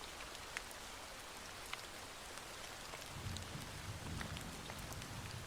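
Steady rain falling with a dense, constant hiss, scattered sharper drips and a low rumble in the second half, heard alone with no voices.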